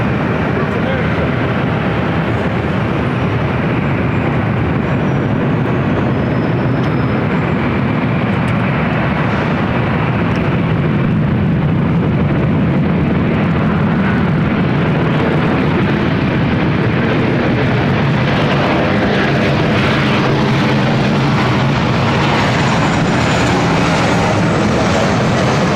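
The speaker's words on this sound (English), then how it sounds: "This next arrival is Alaska 1208, coming in from Portland on the 737-900ER." Alaska Airlines Boeing 737-900ER landing at LAX, a loud, sustained jet roar that swells and then slowly fades, with a low rumble throughout.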